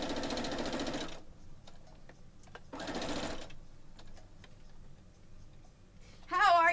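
A sewing machine runs in steady bursts while stitching a quilt block, two sustained whirring runs with quiet gaps between, and a voice briefly enters at the end.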